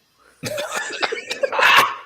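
A burst of rough, throaty coughing, close and fairly loud, in several quick spasms lasting under two seconds.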